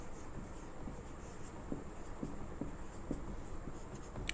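A pen writes out a logarithm equation on paper, giving faint, steady scratching strokes under a constant background hiss.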